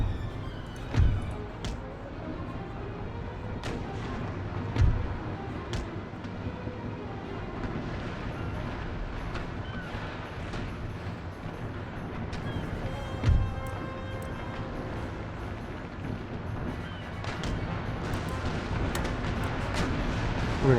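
Naval cannon fire from the Empire: Total War video game, a sea battle between large sailing ships, with several heavy booming shots at irregular intervals over a steady rumbling battle ambience.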